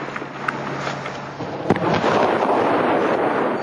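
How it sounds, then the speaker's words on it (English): Gunfire near bridges at Fallujah in wartime: scattered sharp pops and cracks of rounds, then a denser rumble of heavy guns opening up, distant-sounding over a constant noisy background. "Someone in Fallujah fires a few rounds at the sappers, then the heavy guns covering the bridges open up."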